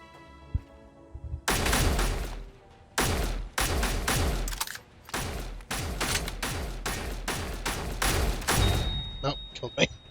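An automated turret in Space Engineers fires repeated loud bursts of rapid shots, several separate volleys with brief gaps, close and dominant, tapering into scattered pops at the end.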